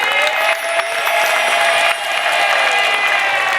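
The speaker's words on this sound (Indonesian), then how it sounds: "Tepuk tangan dong untuk kedua tim nih." Studio audience clapping and cheering on a family game show, bright and continuous with a tonal music sting ringing over it.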